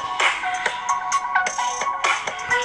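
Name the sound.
music playing from iPhone 6 Plus inside Levin waterproof case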